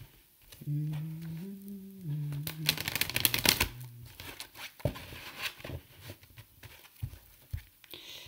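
Tarot cards being shuffled and riffled for a love reading, a dense papery flutter of rapid card slaps building to a loud burst before settling into a few softer taps; no one speaks.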